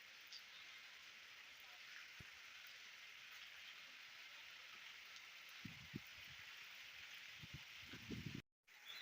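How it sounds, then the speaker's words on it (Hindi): Heavy rain pours down in a village in a steady, dense hiss, with occasional soft thuds of drops nearby and a brief cut-out near the end. "मूसलाधार बारिश हो रही है।"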